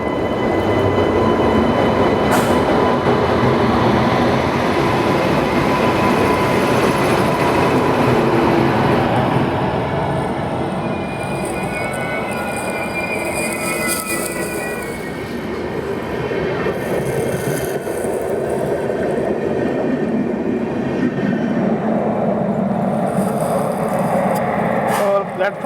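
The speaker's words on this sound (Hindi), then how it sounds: "प्लेटफॉर्म नंबर 3 पे आ चुकी है मैसूरू आरसीकेरे पैसेंजर।" A Mysuru–Arsikere passenger train pulling into platform 3 at an Indian railway station: loud, continuous rumble of rolling carriages and clanking wheels with occasional squeals, easing somewhat as it slows, with voices in the background.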